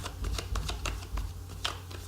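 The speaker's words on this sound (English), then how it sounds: "Just gonna give it 2 more shuffles" Tarot cards being shuffled by hand, a run of quick crisp riffling snaps spaced unevenly over a low background hum, soft and close, with no voices.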